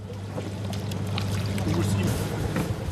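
Seawater poured over rice as it is rinsed on a fishing boat, a continuous sloshing pour over the low hum of the boat's engine.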